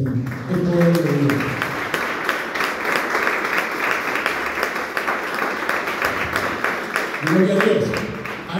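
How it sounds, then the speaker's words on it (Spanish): A church congregation applauds, a dense sustained wash of clapping heard up close, with a voice speaking briefly at the start and again near the end. "Dale un aplauso al Señor"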